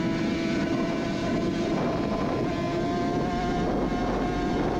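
A Suzuki RG500 classic two-stroke racing motorcycle heard onboard, its engine a loud, constant, raspy drone with rushing wind that never lets up.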